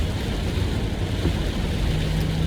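Rain drums steadily on a moving car, a dense continuous hiss mixed with low road and engine rumble heard from inside the cabin.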